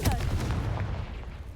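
A Confringo fire spell in Hogwarts Legacy goes off as a short, close, booming burst, a single blast whose rumble fades quickly.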